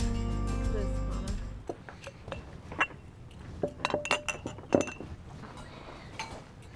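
Glasses clink together at a friends' cookout where brisket is being prepared, several bright, sharp chinks scattered close by over a steady background hum.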